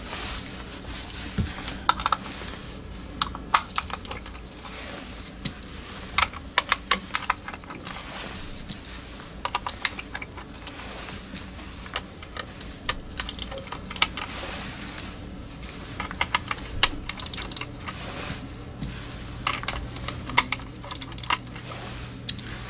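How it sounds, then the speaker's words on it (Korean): Crisp clicks from a Logitech G Pro Superlight mouse's stock buttons sound close up, arriving in irregular bursts and single taps over a quiet background, with no voices. "G프로 슈퍼라이트 마우스의 기존 클릭음을 들어보도록 하겠습니다"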